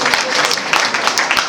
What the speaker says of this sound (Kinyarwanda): Imana amashyi menshi cyane